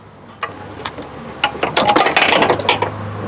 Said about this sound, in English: All right, so now we have to loosen the other belt.